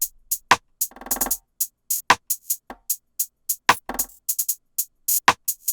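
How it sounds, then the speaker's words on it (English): Dry, punchy percussion hits from a drill beat ring out one after another in a syncopated pattern, each short and separated by silence, with one brief buzzy burst among them. "Then I have this little perk, which is going to hit like this."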